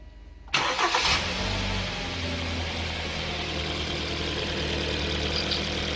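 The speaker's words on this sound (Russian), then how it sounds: "Делаем первый запуск." Hyundai ix35 G4KD engine cranking and catching on its first start after a full overhaul with new pistons and bearings, a sudden loud start settling into a smooth, steady idle.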